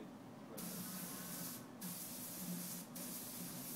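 A spray gun sprays ceramic glaze onto a pot in a steady, close hiss, cut off by brief pauses between passes.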